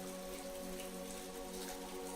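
Steady rain falls on a pond surrounded by trees in a park, a soft, even hiss of drops on the water and nearby surfaces, with continuous low tonal layers underneath and no voices.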